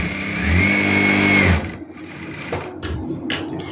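A sewing machine stitches a farshi salwar in one loud, close burst of rapid mechanical whirring lasting about a second and a half, then stops, leaving quiet handling noises and faint clicks.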